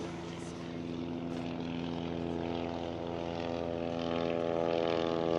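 A propeller airplane drones steadily overhead, a loud continuous engine hum with a rich tonal buzz that swells slightly toward the end.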